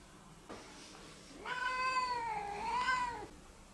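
A person imitates a cat meowing, a single drawn-out, rising and falling nasal mew lasting about two seconds, preceded by a faint short breathy sound and heard fairly close against a quiet background.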